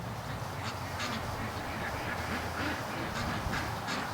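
Several ducks quack and honk in short, repeated calls at moderate distance over a steady background hum.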